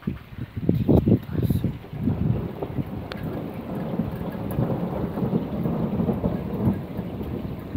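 Heavy downpour behind a house with thunder rolling, a loud crack and rumble early on, then steady pounding rain close by with no talking.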